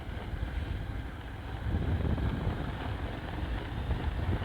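Cold wind blows through a hillside tea plantation, a steady, close rush of broadband noise buffeting the microphone and swelling slightly partway through, with no voices.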